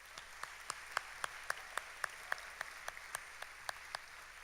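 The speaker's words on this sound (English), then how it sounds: "Let's please give Sarah Madsen Cox a round of applause" Sparse, faint clapping at a children's charity award event, a handful of distinct claps in a loose, uneven rhythm, heard quietly at a distance over a soft room hum.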